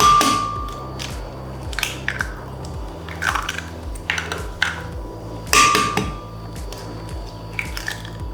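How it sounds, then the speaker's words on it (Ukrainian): Eggs are cracked straight into a bowl of sweet-potato dessert batter, with several sharp, separate cracking taps and squelches spread over a few seconds against a soft, rhythmic background and no talking. "тепер розіб'ємо прямо туди наші яйця"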